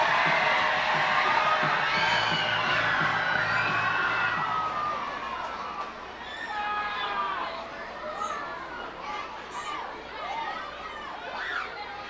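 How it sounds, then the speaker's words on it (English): Crowd at a minor-league baseball game between the Binghamton Rumble Ponies and the Reading Fightin Phils, loud cheering and shrill shouts that build, then settle into scattered yells and chatter, with a voice talking over it. "As the crowd making tons of noise here."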